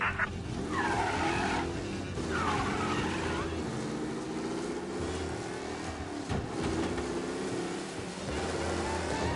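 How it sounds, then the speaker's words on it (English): A race car in the Mafia Definitive Edition video game speeds along with repeated tire squeals and skids over a steady engine roar, with some voices faintly underneath. "for a race car out on the road tonight"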